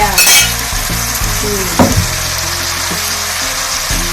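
Water spinach and garlic stir-frying in a hot pan, a steady close sizzle with a brief louder hiss at the start and a few light scrapes and clinks of stirring.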